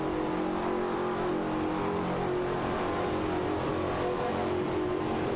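Several exotic supercars, including a Ferrari Enzo and a Hennessy Venom F5, roar through a video game race, their engine drones steady and dense with overlapping tones throughout, no voices.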